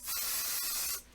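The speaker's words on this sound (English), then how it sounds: "I'm covering the areas that I do not want the spray adhesive on" Spray adhesive hisses from a can onto a quilt during basting, one steady close burst lasting about a second with a couple of brief flutters.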